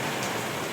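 Rain begins to fall as a dense, even hiss of drops spreading across surfaces, steady and close throughout the brief moment.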